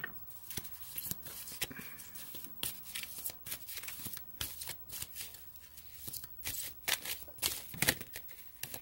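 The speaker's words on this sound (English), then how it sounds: "We'll pull a Grace card and see." Oracle cards are shuffled and drawn by hand in a quiet room, with soft rhythmic riffling and papery flicks repeating in short bursts, close and fairly faint.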